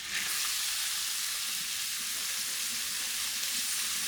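Fennel and leek sizzle steadily in a hot pan for meat loaf, a constant bright frying hiss that stays close and even throughout with no voices.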